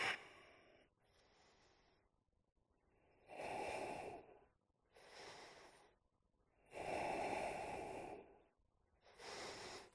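Slow, deep breaths during a yoga stretch rise and fall in a steady rhythm, each long airy inhale or exhale close and clear, with quiet gaps between them.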